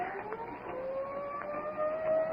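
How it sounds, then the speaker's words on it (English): An ambulance siren wails with a rising, sweeping tone, fairly faint and steady over a few seconds as it approaches. "Here comes the crash ambulance."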